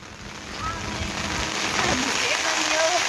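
Heavy rain pours down in a steady, dense hiss that grows slightly louder, with scattered drops splashing close by and no voices over it.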